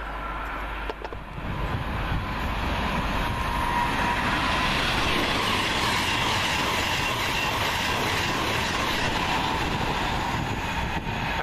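A train bound for London Euston passes close by at Wolverton, its loud continuous rumble and clattering wheels filling the whole stretch with a sustained roar and no talk.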